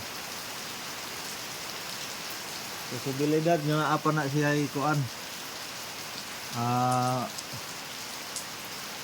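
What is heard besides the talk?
rain falling at night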